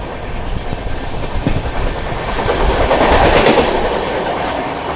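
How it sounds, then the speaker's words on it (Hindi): The Purushottam Express from Jagannath Puri to Anand Vihar runs at about 130 km/h, heard from on board as a loud, steady rumble with rhythmic clickety-clack of wheels on rail joints and no talk. "अलीगढ़ स्किप मार रहे हैं दोस्तों हम ताबड़तोड़ रफ्तार में, फ्लैट 130।"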